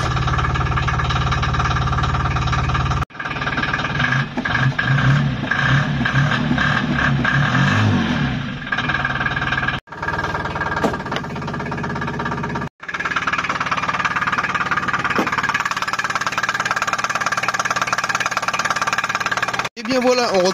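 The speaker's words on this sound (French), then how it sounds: "Alors le moteur Progress fait quand même pas mal de bruit." A Dué Initial microcar's Progress engine cranks, starts and settles into a loud, steady idle with a knocking diesel-like clatter, cutting out briefly a few times.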